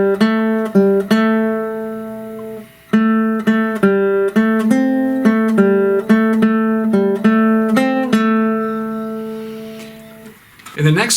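Guitar picking a blues lick, clear single notes and short phrases played close and fairly loud in a steady rhythm, with no voices.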